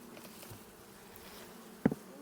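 A low, steady hum of honey bees buzzing in the background during a hive mite check, with a sharp knock or tap near the end.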